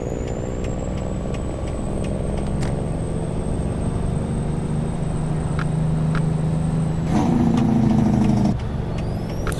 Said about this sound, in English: You see me messing with the retarder that's in the truck here.